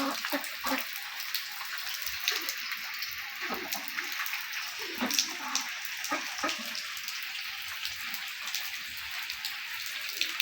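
Rain patters and drips onto water where ducks are playing, a soft, uneven stream of small splashes and droplets with occasional louder plops.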